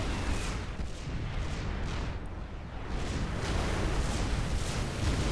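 Tactical missile launchers firing at a commander unit in the Supreme Commander 2 real-time strategy game, heard as a dense, steady wash of rumbling blasts and booming impacts.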